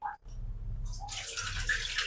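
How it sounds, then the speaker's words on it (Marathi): Water being drained off soaked wheat in a vessel: a short pour and splash building into a steady rushing trickle, close and fairly quiet, with no talk. "परत पाणी काढून घेऊ आपण।"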